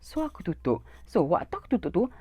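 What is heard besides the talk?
None of the usual background noises is heard.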